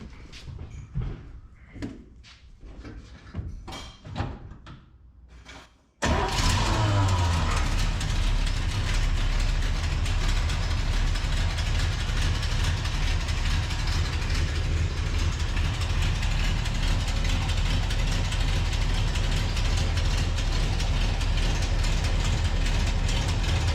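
A Chevy C10 engine cranks over and catches after a few quiet clicks, then runs at a loud, steady idle with a deep low rumble through to the end.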